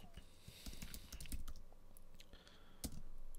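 Rapid typing on a computer keyboard as a folder name is entered, a steady run of close, light key clicks with a few louder strokes near the end, no talking.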